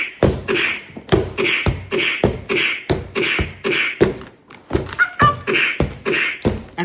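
A boxing glove strikes a battery-powered boxing training machine again and again in a steady rhythm of sharp thuds, each followed by a short electronic beep, with slight irregularity toward the end.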